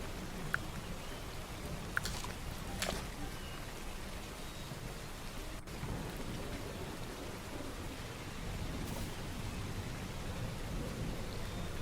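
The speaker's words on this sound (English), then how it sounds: "I overlaid some thunder and a little bit of rain noise" Soft steady rain hiss with a few faint distant thunder rumbles, added as a sound effect over video game footage, quiet and continuous with no talking.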